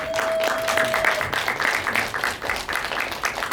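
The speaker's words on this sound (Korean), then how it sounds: "큰 박수로 환영 부탁드립니다" An audience applauds to welcome a film director at a post-screening audience talk during the 4th Incheon Disability Human Rights Film Festival in 2023. The clapping is a dense, steady wash that is fairly loud throughout, with no voices over it.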